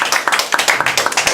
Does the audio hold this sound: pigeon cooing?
no